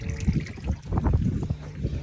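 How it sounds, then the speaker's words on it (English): A raw water washdown pump on a Sea Hunt Ultra 255SE boat, cap off, pushes out water in a steady, close splashing gush with a rough, continuous texture. "but you can see it's pumping water."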